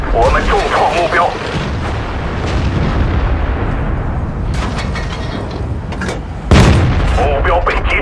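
Heavy tank cannon fire in World of Tanks, a loud boom at about six and a half seconds amid continuous low rumble of battle, with voice chatter near the start and end.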